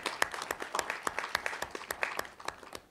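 Audience clapping at a Labour Party press conference, a dense run of sharp, overlapping hand claps sustained steadily throughout at moderate volume, with no voices rising above it.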